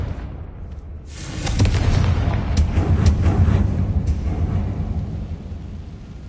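A Confringo spell blast in the Hogwarts Legacy video game, a loud booming explosion followed by a rolling rumble and a few sharp cracks as it dies away.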